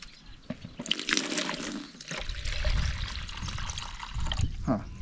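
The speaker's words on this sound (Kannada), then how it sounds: "ಇನ್ನೊಂದು ಸೈಡ್ಗೆ ಸ್ವಲ್ಪ ನೀರು ಹಾಕಬೇಕು" Water poured into a rhinoceros beetle trap for coconut trees, a splashing, gurgling stream that starts abruptly, runs for a few seconds and trails off into trickles, close and fairly quiet.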